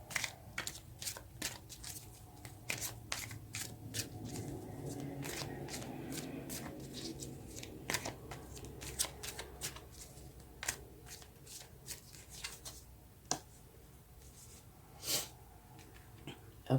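Tarot cards shuffled by hand at close range, a soft, steady riffling and sliding broken by sharper snaps and taps, fairly quiet, with no talk.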